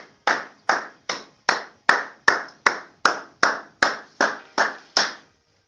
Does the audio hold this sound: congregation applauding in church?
yes